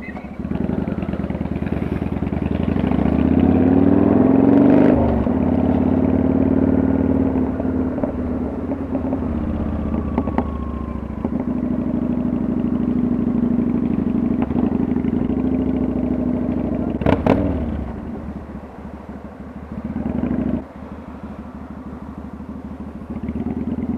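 A motorcycle engine idles and runs steadily with a dog riding on the bike, a continuous close rumble with some clatter and a brief revving swell near the start.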